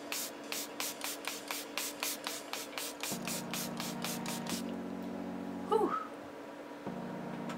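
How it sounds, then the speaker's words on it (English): Milani Make It Last setting spray misted onto a made-up face: a rapid series of about a dozen close, crisp spritzes in steady rhythm, followed by a quieter stretch with a faint low hum and a brief rustle. "now I'm just gonna set it with the Milani setting spray"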